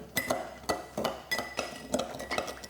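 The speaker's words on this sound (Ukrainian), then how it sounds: "Після того, як ми додали віскі до цукру, нам необхідно це все перемішати." A spoon stirs whiskey and sugar in a warmed glass for Irish coffee, a quick run of bright clinks against the glass, close and steady, with no talking.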